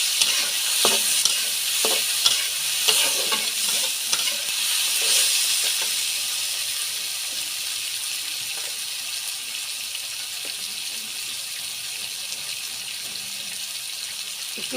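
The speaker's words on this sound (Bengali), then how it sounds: "ভালো করে নাড়াচাড়া করে উস্তেগুলো ভেজে নেব।" Bitter gourd frying in a pan, stirred steadily: a continuous bright sizzle with soft scraping stir strokes, loudest early and then settling into an even hiss, with no talk.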